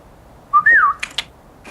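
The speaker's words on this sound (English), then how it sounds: "the whistle with the clicking sound" Mr. Fox's trademark whistle: a short rising-and-falling whistled note, followed by two crisp tongue clicks, loud and close with nothing else around it.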